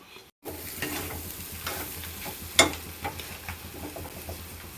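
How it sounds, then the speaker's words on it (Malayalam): Chili powder sautés in coconut oil in a pan, giving a close, crackling sizzle with repeated stirring scrapes and one sharp clack. "നടുക്കിലൊരിത്തിരി വെളിച്ചെണ്ണ കൂടെ ഒഴിച്ചേച്ചു അതിനകത്ത് ഒരിത്തിരി മുളക് പൊടി ഇട്ട് ഒന്നങ്ങോട്ട് വഴറ്റിച്ചു"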